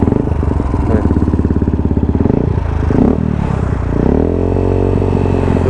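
A motorcycle engine with an aftermarket exhaust on the right side idles with a rapid pulsing rumble, then revs up and settles into a steady, loud drone close by.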